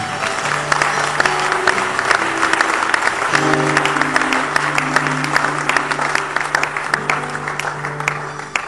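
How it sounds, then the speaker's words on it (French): A church congregation applauds to acclaim the Lord, loud continuous clapping from many hands with a few held musical tones running underneath, sustained throughout at close range. "Acclamons le Seigneur"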